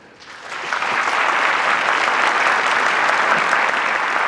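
A room of Toyota employees breaks into applause, the clapping swelling quickly from quiet within the first second, then holding as a dense, even wash of many hands.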